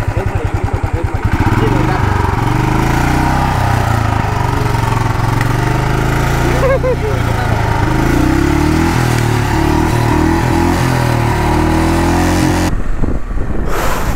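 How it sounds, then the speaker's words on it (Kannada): A motorcycle engine revs in neutral with no gear engaged, a loud steady roar held close on a biking trip through the Kabini backwaters, with people talking over it. "ಗೇರ್ ಹಾಕೋದು ಬೇಡ ಸ್ವಲ್ಪ ರೇಸ್ ಮಾಡಿ"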